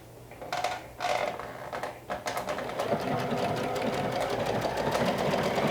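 A domestic sewing machine runs a stretch stitch on a dress seam, its steady mechanical whirr and rapid needle clatter building from short bursts into a continuous close-up run.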